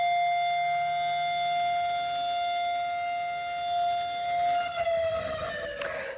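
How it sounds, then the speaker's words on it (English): A civil defense siren wails across Israel during a memorial, one steady sustained tone held loud and long before it winds down and drops in pitch at the end. "Today at 6:29 a.m., sirens blared across Israel"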